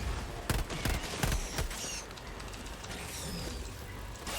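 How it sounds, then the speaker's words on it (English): Short bursts of submachine gun fire from the MP-98 Knight in Helldivers 2, several quick rattling volleys in the first two seconds, followed by fainter mechanical weapon clatter. "burst fire seems a great deal better"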